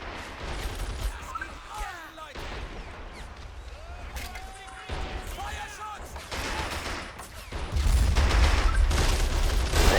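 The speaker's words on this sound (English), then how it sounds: "The anti-tank gun is firing out its shots into the ranks here." Anti-tank gun fire in the WWII strategy game Men of War: Assault Squad 2, heard as a busy battle mix of repeated gunshots and distant booms under steady narration.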